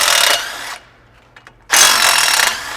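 Power tool or ratchet running on bracket bolts of a Dodge D350 truck with camshaft bearing failure, two loud sustained bursts of whirring separated by a quiet pause with faint clicks.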